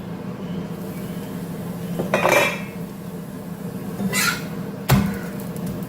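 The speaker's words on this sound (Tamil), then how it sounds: "இது மூடி வச்சிடலாம்" A lid set onto a pan of cooking ragi adai over a low stove: a few distinct metallic clanks and clinks, the loudest near the end, over a quiet steady background hum.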